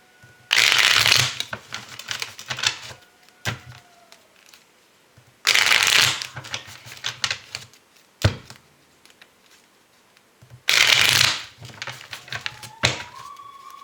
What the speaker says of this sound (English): We'll cut the deck and lay a spread.